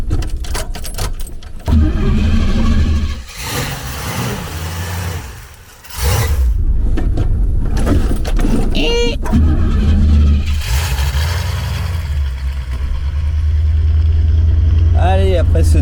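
A Pontiac Firebird starts up and pulls away, its engine rumbling low and steady up close through most of the stretch, with a brief jangle of keys and a short lull before the car settles into cruising.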